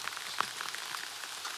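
Rain falls outdoors as a dense, steady patter of drops, with a few sharper close splats standing out and no voices.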